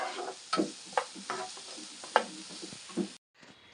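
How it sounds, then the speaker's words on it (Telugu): Onions fry in a pan for egg Maggi noodles, a soft sizzle punctuated by sharp utensil scrapes and clicks, fairly quiet and close, cutting out briefly near the end. "ఇక్కడ ఎగ్ వేసి ఫ్రై చేయడానికి ఆనియన్స్ ఇవి ఫ్రై చేసుకుంటున్నాను"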